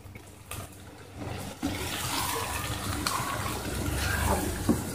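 A glass of water pours steadily into a pot of frying spiced potato and minced meat for several seconds, a continuous splashing rush that grows slightly fuller toward the end.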